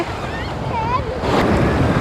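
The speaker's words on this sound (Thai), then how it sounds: "นี่ครับทะเลวัยวันนี้ คลื่นค่อนข้างแรงนะครับ" Strong sea waves break and wash at Hua Hin beach on the Gulf of Thailand, a loud, steady surf roar with wind buffeting the microphone, swelling louder in the second half.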